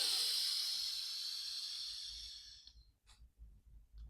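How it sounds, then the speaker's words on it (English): A long, deep inhaled breath, close and hissing, lasting over two seconds, followed by quiet low rumbles and a faint short rustle. "Take a deep breath."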